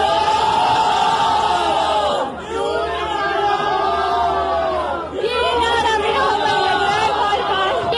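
A huge stadium crowd at a cricket match in Gaddafi Stadium, Lahore, roars rhythmic slogans in unison, swelling waves of chanting voices that briefly dip and surge again, loud and dense throughout.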